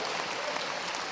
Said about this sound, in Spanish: Yo creo que el Señor se merece un aplauso bien fuerte.